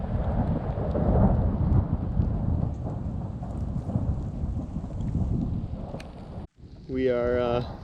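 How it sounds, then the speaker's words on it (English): Rain falls steadily during a mountain hike near Beehive Basin, a broad hiss with low rumbling. A voice speaks over it, then it cuts off briefly before a short tonal sound at the end. "it's raining pretty good"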